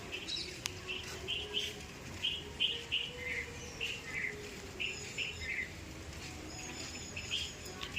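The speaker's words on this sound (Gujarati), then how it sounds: "ચકલીઓ છે બોલો" Sparrows chirp repeatedly in quick, bright bursts at a moderate distance, over a soft background hum of rain and outdoor ambience.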